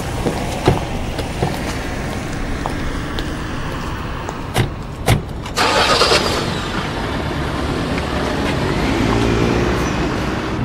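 A car engine cranks with a couple of sharp clicks, then catches and settles into a steady mid-pitched idle rumble, loud and close with road noise around it.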